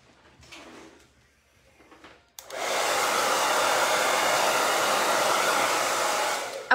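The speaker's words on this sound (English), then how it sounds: "Okay, so I'm going to use the Triumph blow dryer." A Triumph blow dryer drying hair switches on after a quiet stretch of faint handling noise, then roars steadily and loudly at close range for several seconds without a break.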